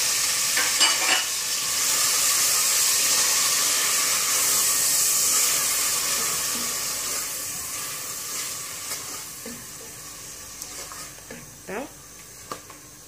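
Chopped onion sizzles in a pot for Algerian-style lentil soup, a steady close frying hiss that gradually softens, with occasional utensil clinks near the end.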